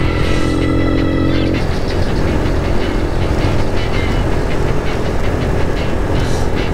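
A motorcycle rides along a rough dirt road, its engine note droning continuously up close, a tonal whine fading early into a steady rumbling buzz.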